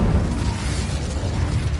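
A fire spell cast in Hogwarts Legacy, heard as a short, dense, roaring whoosh of flame that holds at a steady loudness for nearly two seconds with no voices.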